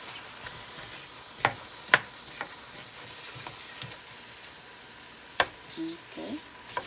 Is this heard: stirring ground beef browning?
yes